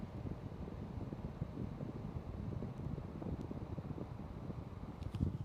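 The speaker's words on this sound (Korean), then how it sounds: "이렇게 에어컨 가까운 쪽에 바람 나오는 쪽으로 갖다 댈 거고요" Window-type portable air conditioner running with the microphone held at the air outlet, a steady rough rush of blown air and fan noise, close and constant, without talking.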